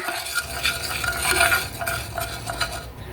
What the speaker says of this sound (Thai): น้ำมันเล็กน้อยใส่ในกระทะนะคะเกลี่ยน้ำมันให้ทั่วกระทะค่ะ